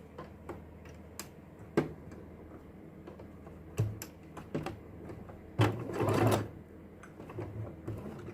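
A sewing machine runs in short repeated bursts of stitching as a decorative border is sewn onto a scarf or dupatta, with one louder, longer run near the end where the thicker point is stitched through.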